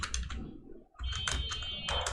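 Fast typing of a code comment on a computer keyboard, dense clicking keystrokes in quick bursts with a brief pause near the middle, close and clear with no voices.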